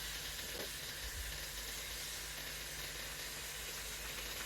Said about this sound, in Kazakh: Отымыз орташа баяу отта қуырамыз.